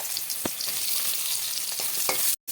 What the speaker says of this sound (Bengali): ওই তেলে সয়াবিনটা ভেজে নেবো।